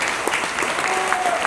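Short burst of dense clapping from a gathered audience honouring one of its members, brisk and fairly close, with a voice faintly under it.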